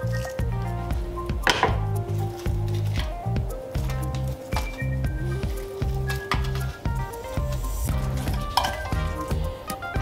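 Chicken drumsticks being placed into an oven tray: repeated wet squishes and clinks of metal and cookware, steady and close with little talk.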